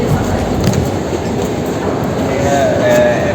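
A Bucharest metro train rumbles loudly through the station, a continuous low roar with faint wheel squeal toward the end.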